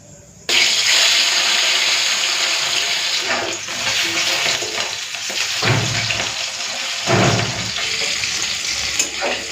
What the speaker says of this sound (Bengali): তেলটা ভালো করে গরম করে নিয়েছি এরপরে মাছগুলো ভেজে নেব